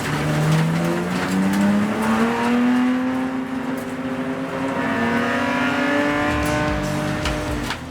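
Race cars accelerate hard at a green-flag restart after a safety car period, with a loud engine note rising steadily in pitch. The sound stays close and continuous, with a hint of tyre squeal and no talking.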